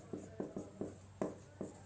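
Chalk or marker strokes on a board during a chemistry lesson, six short scratchy taps and scrapes spaced irregularly, fairly faint with a quiet room hum beneath and no talking.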